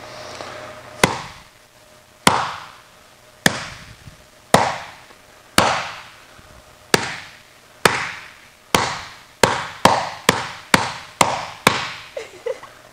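Ball peen hammer striking an aluminum weld seam, about fourteen sharp metallic blows, each ringing briefly. The strikes start slow and evenly spaced, then quicken toward the end, close and loud.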